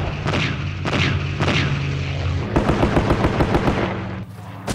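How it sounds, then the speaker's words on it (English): Military aircraft bombing and machine-gun strafing runs on troops near a camp, heard as several heavy booming blasts followed by a rapid burst of loud automatic gunfire, close and dense, with no talking. "The aircraft made three heavy bombing and strafing runs."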